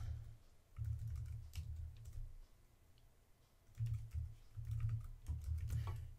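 Fingers typing on a computer keyboard while entering account details, in quick bursts of soft, close clicks with short pauses between them.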